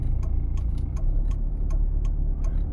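Steady rhythmic ticking of a car's left turn signal, clicking about twice per second over a low engine and road rumble.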